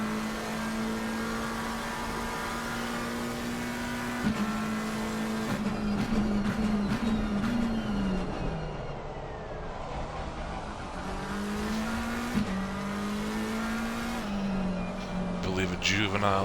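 A GT race car on a Nurburgring qualifying hot lap in a racing video game revs hard, its engine note climbing and dropping through repeated gear shifts, with a voice talking over it.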